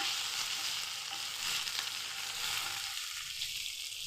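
Curry leaves, mint, coriander and green chilies fry in a pan of hot oil for fried rice, giving a steady, close sizzling crackle throughout with no talk.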